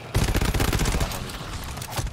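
A sentry gun in GTFO fires a rapid, continuous automatic burst, loud and close, with dense rattling shots lasting about two seconds.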